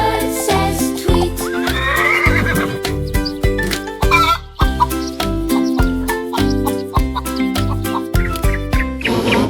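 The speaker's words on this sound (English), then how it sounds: "A horse says neigh" A horse neighs in a loud, close whinny set within a children's animal-sounds song, with rhythmic music and clip-clop percussion running under it throughout.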